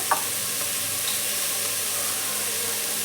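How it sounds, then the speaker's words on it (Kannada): A quarter spoon of turmeric powder goes into hot oil in a pan for a watermelon rind curry, and a dense, steady sizzle follows, loud and close with a brief clink at the start. "ಒಂದು ಕಾಲು ಚಮಚದಷ್ಟು ಅರಿಶಿನ ಪುಡಿ ಹಾಕ್ತಾ ಇದ್ದೀನಿ"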